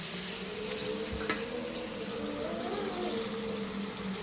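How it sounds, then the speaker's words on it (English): Mince fries in a pan for stuffed peppers, a steady, close sizzle with a dull low hum underneath and one brief clink, with no voices. "I like my mince to fry up."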